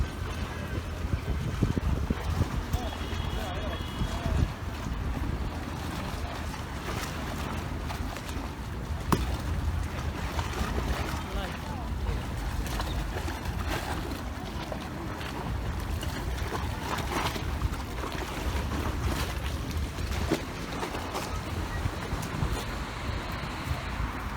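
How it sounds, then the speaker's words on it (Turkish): A steady wash of engine rumble and wind buffets the microphone as a boat moves along the shore at Kireçburnu, continuous and fairly loud throughout. "Tekne tekne."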